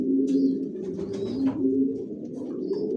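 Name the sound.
Johnson racer pigeons cooing in a loft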